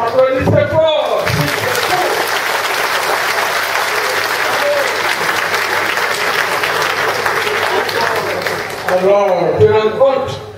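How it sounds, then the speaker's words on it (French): A political convention assembly breaks into loud, sustained applause lasting several seconds, with a voice speaking briefly before and after the clapping. "Applaudissez fort."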